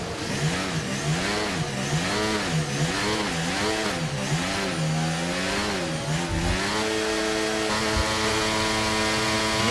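Race car engines in a sim racing game rev up and down in rapid repeated surges, a loud wavering mechanical whine that then settles into a steadier drone, with no talk.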